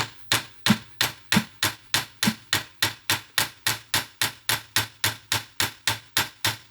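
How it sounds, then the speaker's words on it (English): Hammer flattening trimmed rivets on an RCA Victor 26BP radio, a steady run of about twenty sharp, evenly spaced metallic blows, close and loud with no talk. "I've trimmed the rivet off and I need to flatten these a fair bit, unfortunately."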